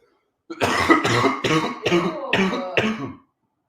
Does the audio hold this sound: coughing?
yes